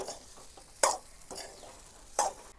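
Sugar being stirred into a methi muthiya dough of fenugreek leaves, with a few sharp scraping strokes spaced apart over soft, close mixing noise.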